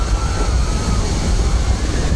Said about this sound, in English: The great ship descends.